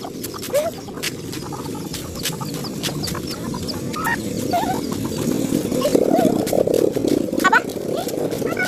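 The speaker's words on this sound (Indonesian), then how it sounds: "Ayam." Chickens cluck in short, repeated bursts, fairly close, while people talk over them throughout.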